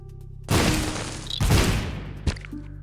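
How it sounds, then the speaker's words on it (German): Explosions in the video game The Binding of Isaac: Repentance, two loud booming blasts in quick succession, followed by a brief smaller pop. "Was sind da gerade Explosionen?"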